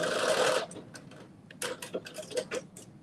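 A sewing machine back-stitches fabric for a garment top. A loud whirring run gives way to a quieter series of ticking, clattering stitch sounds.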